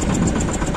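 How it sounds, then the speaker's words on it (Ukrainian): A Shifeng mini tractor's engine runs steadily under load while plowing a field in autumn, a close, loud, rhythmic diesel chug with an even beat throughout the brief moment. "Трактор, в принципі, йде вроді непогано, але так більше дають чуть оберти"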